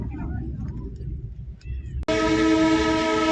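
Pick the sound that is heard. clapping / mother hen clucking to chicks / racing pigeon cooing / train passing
train passing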